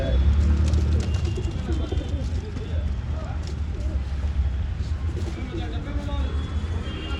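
Domestic pigeons coo in a low, continuous murmur throughout, close and steady, with a voice speaking faintly over the birds in a loft.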